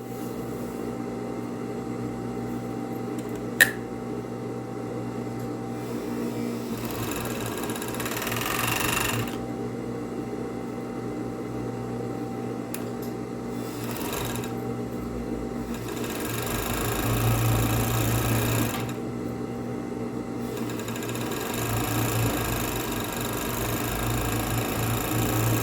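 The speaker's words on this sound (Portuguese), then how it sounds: "Primeiro eu vou pra overlock, passar isso daqui em toda a volta da nossa peça, nas duas peças" An overlock sewing machine runs steadily while stitching around the edges of a jute placemat, a continuous close mechanical whir with slight swells in speed and one brief sharp click early on, no voices.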